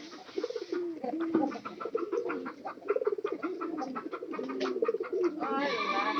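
A domestic pigeon coos repeatedly in soft, throaty rolling phrases indoors, close by, with a few faint chirps and scuffs, no talking.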